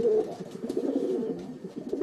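Pigeons cooing in low, throaty rolling calls that overlap continuously, fairly close and steady, with no talk.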